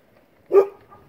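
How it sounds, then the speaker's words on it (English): A single sharp dog bark sounds once, fairly close, in otherwise quiet surroundings. "Had to bark at something."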